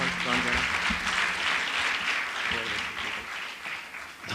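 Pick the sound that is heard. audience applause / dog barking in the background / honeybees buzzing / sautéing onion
audience applause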